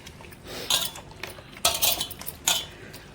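Fish pieces being tossed and mixed with masala in a metal bowl before frying, giving a few scattered clinks and scrapes of utensil against dish, fairly close and with no talking.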